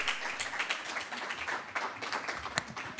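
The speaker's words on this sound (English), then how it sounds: "Round of applause." An audience at a poetry fellows reading claps in a steady round of applause, many hands at once at moderate distance, with no talk over it.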